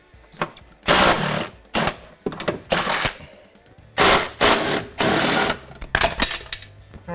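An impact wrench removes shock bolts on a 2018 Dodge Charger, firing in a series of loud, sharp rattling bursts separated by brief pauses, close up and with no talk.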